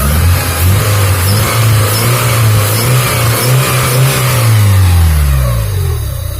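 A Honda Civic Genio engine runs close by after an injector adjustment, rising and falling through revs with a steady low hum under a rough, loud mechanical roar.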